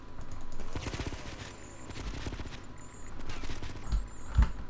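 Rapid bursts of automatic gunfire in a chaotic multiplayer shooter video game, crackling in quick clusters with scattered single shots, mixed under game sounds at moderate loudness.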